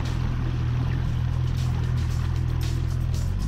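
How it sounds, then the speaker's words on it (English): A boat with a Yamaha F50 996cc four-cylinder outboard engine running, a steady, smooth low hum with faint water wash, constant and unbroken throughout. "Our test boat was powered by Yamaha's 996cc 4-cylinder F50, which is so quiet and smooth,"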